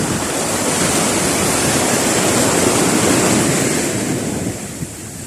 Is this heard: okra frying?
no